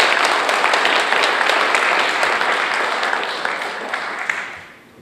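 A forum audience applauds to welcome the host to the stage, a dense burst of many hands clapping together that holds strong for several seconds and then fades away.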